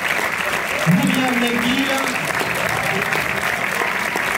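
Audience applause at a film premiere for the movie ARCO at UGC Bercy cinema in Paris, a steady wash of clapping filling the room while a presenter speaks over it.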